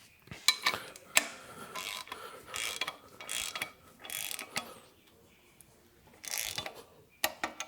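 A hand ratchet fitted with a 17mm socket tightens a bolt while a compressor is installed on a 2016+ Camaro, clicking in several quick bursts of sharp metallic ratcheting separated by short pauses.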